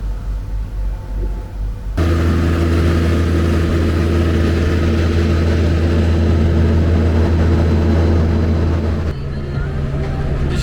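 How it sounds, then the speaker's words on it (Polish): A tractor engine runs steadily in a field during a potato harvest into crates, a loud low drone that starts abruptly after about two seconds and holds constant, dropping slightly near the end. "pracuję na ciągniku."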